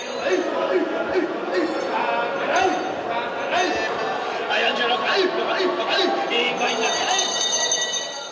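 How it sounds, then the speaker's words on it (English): At a pre-dawn tuna auction in Tokyo, a crowded hall fills with overlapping voices, bidding calls and scattered clinks and knocks, busy and reverberant throughout. "That was the sound of a pre-dawn auction in Tokyo yesterday morning."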